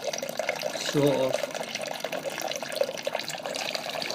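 Homebrew beer wort running off through a tap into a vessel, a steady trickling liquid flow heard close, with someone talking over it.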